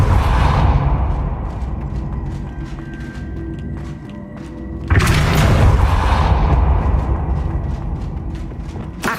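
A pushing spell in Hogwarts Legacy lands as a deep boom. A second heavy, resonant impact rumbles in about halfway through and then slowly decays, with no voices.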